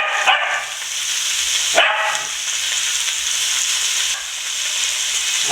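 Sliced beef sears in a single layer in hot oil in a pot, giving a steady loud sizzle throughout with a couple of brief sharp crackles or pops near the start, no talk.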